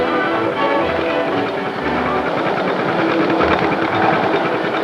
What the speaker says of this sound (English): those wheels rumbling over the tracks